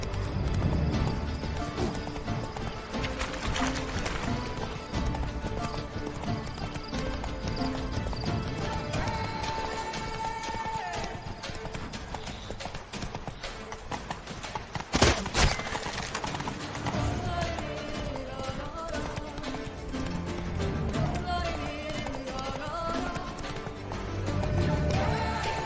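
Hooves of Roach, a horse in The Witcher 3: Blood and Wine, clip-clop in a steady gallop throughout, with an occasional whinny, under a dense game soundtrack and a brief crash midway.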